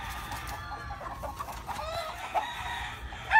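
A rooster clucks and crows softly at some distance, with quiet chicken sounds scattered through a short stretch.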